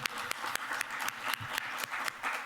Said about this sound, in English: we'll do one last round of applause